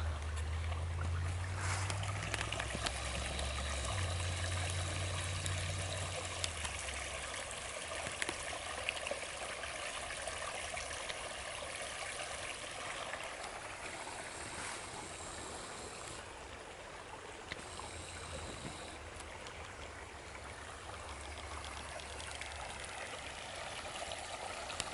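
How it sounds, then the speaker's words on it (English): A swollen little creek flowing on a cold day, its steady broadband rush and trickle continuous throughout, with a low rumble near the start and no talking. "This little creek has way more water in it than it did"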